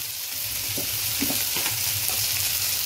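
Masala for salga bada saag sizzles steadily in a pan, with a spoon scraping and stirring through it in a few soft strokes over the continuous frying hiss.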